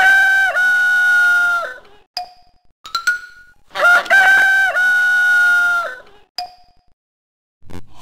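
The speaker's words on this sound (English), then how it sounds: "For a great big rooster sound, press any key you want." An electronic Sesame Street baby toy plays a loud, bright recorded rooster crow twice, with short chiming dings between the crows.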